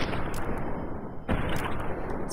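Gunfire from weapons in the video game Fallout: New Vegas, a loud, dense burst of shots with one sharp crack standing out midway.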